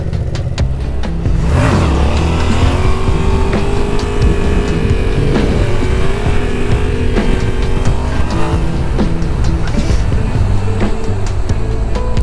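A Yamaha XSR700 motorcycle revs hard through a wheelie on a cold fall day, its engine rising and falling loudly and close by over several seconds.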